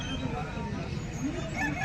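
Chickens at a busy poultry market, with steady crowd hubbub and faint fowl calls mixed into the background noise throughout.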